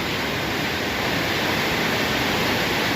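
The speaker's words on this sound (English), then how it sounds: "pretty sure this is an underground river that we're looking at right now." An underground river rushing through a cave it has carved, a dense, steady roar of churning water filling the space with no pauses or voices.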